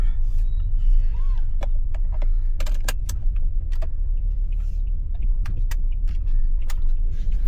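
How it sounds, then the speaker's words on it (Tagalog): A car passes on a rural road in Japan, a steady low rumble of tires and engine that fills the whole stretch, with scattered clicks and light rattles on top. "Uy, may kotse pala."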